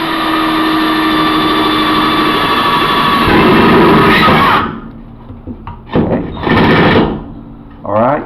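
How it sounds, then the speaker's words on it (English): A standard 3/8 inch electric drill bores holes in ordinary thin tin for a small charcoal maker, a loud steady whine that cuts off abruptly, then brief rattling handling sounds. "you can see how easy it is to drill holes in this ordinary tin using a 3/8 inch standard drill"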